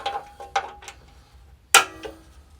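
Loosening a bolt on a Honda ATC70 frame with a ratchet: a few quick metallic clicks, then a sharp louder clank, close and dry with no talking.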